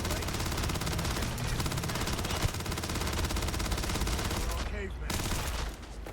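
Sustained automatic gunfire from a gun in the video game Starfield, dense rapid bursts running almost without pause, loud and close, before stopping abruptly near the end.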